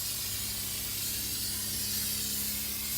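Steady broadband hiss of 3M 77 spray adhesive being applied to a leather seat cover for a Mercedes-Benz 560SL, a continuous close aerosol spray with no pauses.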